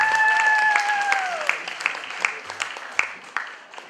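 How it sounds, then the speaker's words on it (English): Applause at the Kal Ke Rang awards for an awardee, a classical dancer, starting as a loud crowd round over a brief sustained tone, then thinning to a few scattered, separate claps as it dies away. "Please give her a big round of applause."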